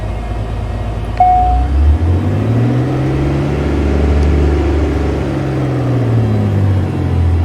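The engine of a Diamond DA50RG light aircraft, simulated in X-Plane 11, runs steadily during a ground run-up, a loud low droning rumble that swells slightly and stays constant, with a brief beep near the start.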